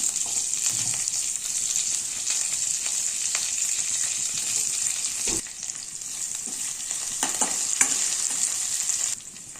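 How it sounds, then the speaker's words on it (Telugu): Onions, green chillies and curry leaves fry in hot oil with a bright, continuous sizzle close by. Occasional spoon scrapes and taps cut through, and it stays loud from start to finish with no talk. "ఇప్పుడు ఆనియన్స్, చిల్లీస్, కరివేపాకు వేసుకొని గోల్డెన్ కలర్ వచ్చేంత వరకు ఫ్రై చేయాలి."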